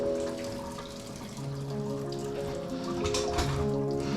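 Water running steadily from a tub spout faucet during a shower valve replacement, a continuous rushing hiss with some hum underneath, close and unbroken throughout.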